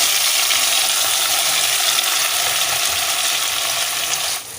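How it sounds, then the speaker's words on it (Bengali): Chopped onion, tomato and green chili frying in hot oil over tempering spices for a Bengali red chicken curry with potato: a loud, steady, dense sizzle that holds throughout and eases slightly at the very end. "এখন আমি কুচানো পেঁয়াজ, টমেটো আর কাঁচা লঙ্কাটা দিয়ে দিচ্ছি।"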